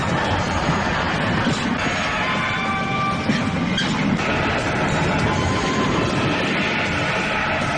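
A train rumbles along steadily in a Kannada action film scene, a continuous loud mechanical roar with faint rail clatter and no voices.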